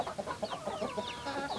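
Chickens clucking softly around a water container, a steady run of short, overlapping clucks and chirps, close but quiet.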